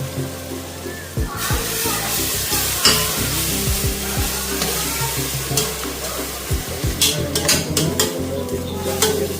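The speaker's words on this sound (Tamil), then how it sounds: "சில்லி பவுடர்லாம் சேர்த்து கொதிக்கிறது." Masala with ginger paste and chili powder for mushroom biryani cooks in a pan: a steady close sizzle with repeated scraping and stirring clatter of a spoon against the pan, and occasional speech over it.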